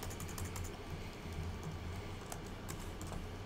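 Steady typing on a computer keyboard during a programming class, with quick, irregular keystrokes clicking close by and fairly quietly, and no voice over them.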